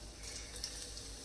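Finely chopped garlic drops into hot oil for a tadka on a home stove and gives a faint, steady, even hiss.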